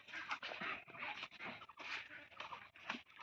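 A German shepherd, an active working dog, pants in quick rhythmic breaths close by, fairly quiet, with faint whimpering mixed in and no talking.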